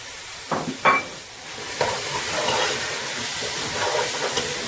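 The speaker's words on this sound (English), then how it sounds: "In goes our carrots. Our butternut squash." Carrots and butternut squash tumble into a pot of Gambian chicken peanut stew: a few soft thuds and knocks, then a steady hiss and sizzle that continues on its own.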